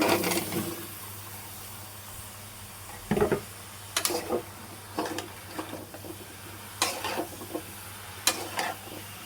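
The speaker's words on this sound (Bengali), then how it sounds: "কেটে রাখা শসাগুলো দিয়ে দিচ্ছি।" Cut cucumbers go into a pan of frying shrimp curry, with a soft steady sizzle underneath and repeated sharp scrapes and taps of a spatula stirring at irregular intervals.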